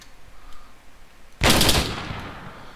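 A sudden loud burst of rapid machine gun fire in the video game Arma 3 breaks out after a quiet moment, rattling for about half a second before fading into echo.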